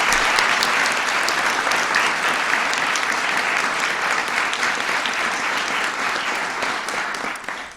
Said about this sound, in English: Give Harry a big round of applause.